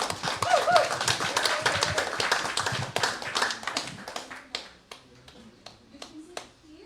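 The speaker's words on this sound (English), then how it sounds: "Please give a round of applause to our friend," Audience applause at an international peasant movements' solidarity conference greets a speaker, starting as brisk, dense clapping from the crowd, then thinning over a few seconds into scattered individual claps that fade out near the end.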